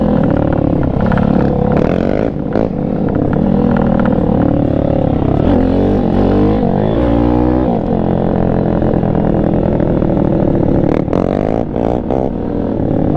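A cheap Chinese Apollo/Tao Tao dirt bike riding off-road trails, its small engine buzzing loud and close as the revs rise and fall, with scraping and rattling over rough ground throughout.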